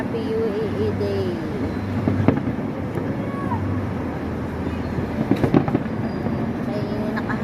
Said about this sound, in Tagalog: Nakita na fireworks sa may Abrayan sigurado.